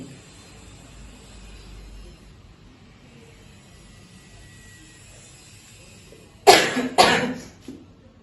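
Two sharp coughs in quick succession, loud and close, following several seconds of quiet room hiss, with a smaller trailing sound after them.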